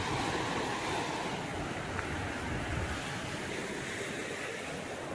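Sea surf at high tide beside a seaside Mahadev temple, a steady, full roar of breaking waves with wind buffeting the microphone throughout and no voices.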